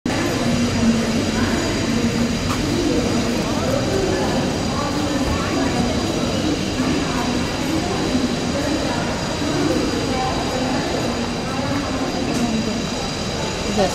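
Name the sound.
Panvel railway station with local trains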